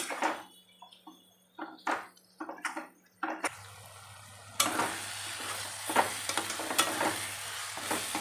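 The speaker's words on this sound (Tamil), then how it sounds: "நல்லா சுருளாக வதக்கிறது எண்ணெய் கக்கின்னு வருது" Tomatoes are sautéed in oil in a pan for a brinjal gravy: a series of scraping stirring strokes, then a denser, continuous sizzle of frying with further stirring scrapes over it, all close and fairly soft.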